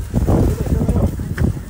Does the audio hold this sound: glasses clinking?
no